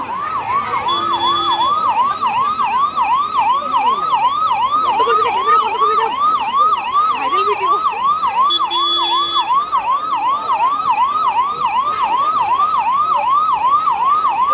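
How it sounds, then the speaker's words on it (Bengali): An ambulance siren wails in a continuous rapid up-and-down pattern, loud and close, at a crowded mela gathering in Guwahati, with people talking over it in places. "কি রে অ্যাম্বুলেন্স কেন"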